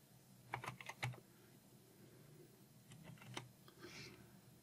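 Someone types a password on a computer keyboard, giving two short bursts of soft, close key clicks with a pause between them, and the room is otherwise quiet.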